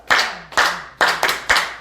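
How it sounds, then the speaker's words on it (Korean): A church congregation claps in praise, five sharp, fairly loud claps landing in a quick, slightly uneven rhythm with no talking over them. "칭찬 박수 시작."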